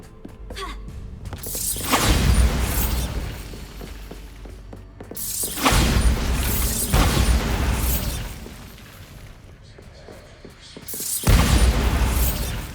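Three heavy blasts from the Bombarda spell in Hogwarts Legacy, each a loud booming burst with shattering debris that decays over a couple of seconds, spaced roughly five seconds apart.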